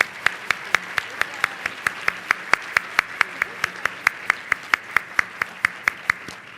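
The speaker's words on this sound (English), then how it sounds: "Please give them all a round of applause." Sharp, evenly spaced claps, roughly four per second, sound loud and near at a dinner event, suggesting one or a few people clapping in steady rhythm rather than a broad crowd.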